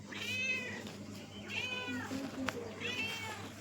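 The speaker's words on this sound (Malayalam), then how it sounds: "ഇത് നമ്മളിവിടെ പൂച്ചയാണ്. ആയി പൂച്ചക്കുട്ടി." A kitten meows three times at even intervals, close and clear, with faint background noise and a few light knocks between the calls.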